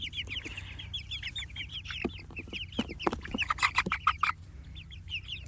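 Meat chickens cluck and chatter in a busy flock, rapid overlapping calls rising and falling close by with no talking.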